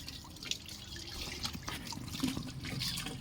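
Hands being rinsed clean under running water during a handwashing demonstration, with soft, faint splashing and dripping that goes on steadily throughout and no voices.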